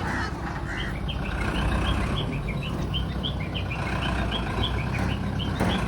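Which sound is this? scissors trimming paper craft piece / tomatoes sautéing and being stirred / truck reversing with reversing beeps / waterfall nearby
truck reversing with reversing beeps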